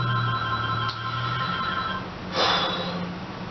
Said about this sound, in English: I'm not going to get knocked off my conversation with this phone ringing